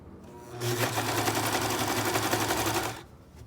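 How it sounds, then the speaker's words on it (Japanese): An overlock serger, bought about ten years earlier, runs in one fast buzzing burst of about two and a half seconds, trimming and stitching the edges of a fabric drawstring bag. It is loud and close and starts and stops abruptly. "こちらが私が使っているロックミシンで10年くらい前に買いました。"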